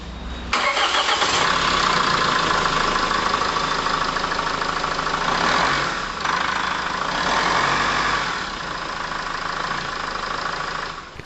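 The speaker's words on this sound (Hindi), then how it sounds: "तो चलिए इंजन का आवाज किस तरह होता है चलिए सुनते हैं" A Mahindra XUV500 W11 BS6 four-cylinder diesel engine starts and runs at a loud, steady idle close up, with a dense, even clatter that dips briefly midway and then carries on, no voices over it.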